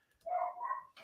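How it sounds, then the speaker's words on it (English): A single dog's bark, close and fairly loud, rising and falling over about a second with a brief clatter after it, with no talking. "that's my dog."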